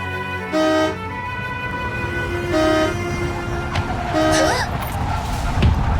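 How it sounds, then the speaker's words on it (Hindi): A car horn honks three times in short, loud bursts spaced a couple of seconds apart, over a steady background hum. "कब से हॉर्न बजाए जा रहा हूं"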